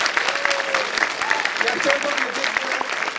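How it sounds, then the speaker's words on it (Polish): An audience applauds at a formal university meeting in Poland, steady dense clapping running throughout with a voice speaking over it. "chciałem powiedzieć, że te brawa są jak najbardziej zasłużone"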